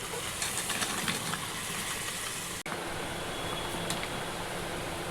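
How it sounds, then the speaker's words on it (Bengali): Chickpeas and potatoes poured into a hot pan in a home kitchen, a continuous loud sizzle and hiss with crackling spits, broken by one brief cut midway, and no talk over it. "তারপরে চানাগুলো আর আলুগুলো ঢেলে দেবো"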